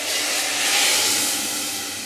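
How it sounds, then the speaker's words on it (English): A steady, loud hiss of cold water, about 500 ml, poured into a hot pan while making homemade soup. The broad sizzle swells slightly and then eases, with no talking over it. "so listen for the sizzle."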